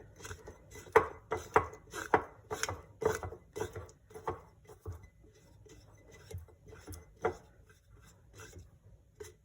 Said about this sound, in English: Now I'm going to scrape down my sides, try to clean it up a little bit.